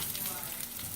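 Green beans sizzle in a pan, a steady, close frying hiss with faint crackle filling the short moment.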